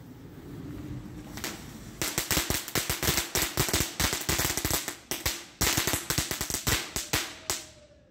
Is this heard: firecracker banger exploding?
yes